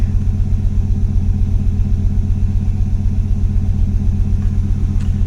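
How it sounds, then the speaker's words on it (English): A vehicle engine fitted with a Chinese carburetor idles in neutral at about 950 rpm, giving a loud, steady, close low rumble with an even pulsing throb and no talk. "So yeah, she's idling pretty good, man."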